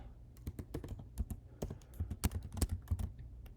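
Rapid, uneven computer keyboard typing close by, with clustered key clicks and a few heavier presses, no voices.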